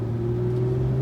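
A car engine drones steadily under acceleration on a wet driving-lesson track, a sustained low hum with a firm tone from inside the cabin, no talking.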